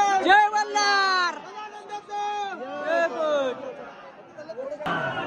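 Dense crowd chatter fills the Jejuri temple grounds, many voices overlapping close by in a steady hubbub, with individual people speaking loudly over the babble.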